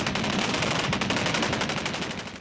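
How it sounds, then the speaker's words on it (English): Real guns loaded with blanks fire on a film set with Marine Corps support. A dense, continuous rattle of rapid automatic bursts stays loud and steady throughout. "We had real guns, which were blank firing"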